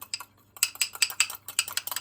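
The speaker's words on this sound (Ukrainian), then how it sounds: "Все це перемішали." A spoon scrapes and clinks rhythmically against a bowl while mixing a sauce with homemade ketchup, a quick series of close, bright taps and scrapes.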